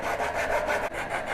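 A coping saw cuts wood for a dovetail joint, giving a close, raspy back-and-forth rubbing. Two or three steady strokes are heard, with a brief break just before the last one.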